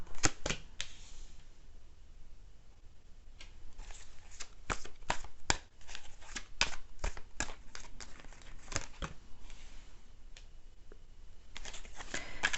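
Large tarot cards are shuffled by hand in quick, irregular bursts of riffling flutter and soft slaps, close and fairly quiet.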